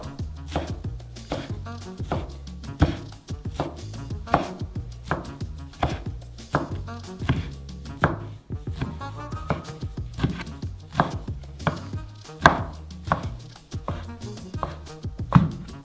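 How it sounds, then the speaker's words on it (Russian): A knife chops soft dough on a board in quick, regular strokes, each a sharp close thud, while making a giant 110-kilogram Dubai chocolate bar; the rhythm runs steadily with brief pauses, without talk. "Следующий этап – нарезка. Нам нужны более короткие отрезки этого теста."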